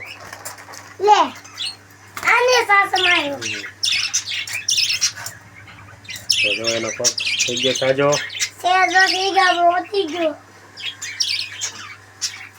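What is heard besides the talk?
pet budgerigar squawking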